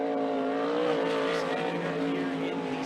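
Sportsman sprint car running a qualifying lap at a dirt track, a loud steady engine drone with strong harmonic tones holding near constant pitch, with an announcer's voice faintly under it.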